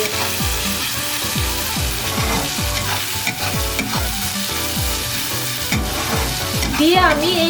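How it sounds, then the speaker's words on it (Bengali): Ginger garlic paste sizzles in a pan on low flame while being stirred for chicken biryani, with a steady frying hiss and regular scraping spatula strokes, close and continuous, no one speaking. "আমি এই পেস্টটাকে ভালো করে মিশিয়ে নেব যতক্ষণ না পর্যন্ত এর কাঁচা গন্ধটা চলে যাবে"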